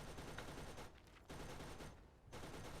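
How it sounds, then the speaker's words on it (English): A Gatling turret in Borderlands fires in dense, rattling bursts at low level, with two short pauses between sustained streams of rapid shots. "if that's a Gatling turret"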